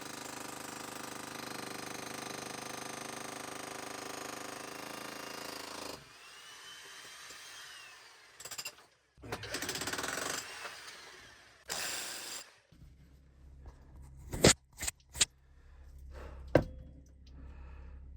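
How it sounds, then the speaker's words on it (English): A jackhammer breaks hard quartz inside a tunnel, sounding in loud bursts of hammering separated by pauses, with steady rattling early on and short sharp blasts later. "it feels good to be back on the jackhammer again and trying to make some progress"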